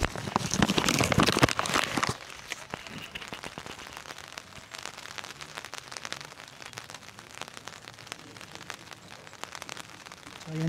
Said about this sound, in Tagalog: dahan-dahan nang pumapatak ang ulan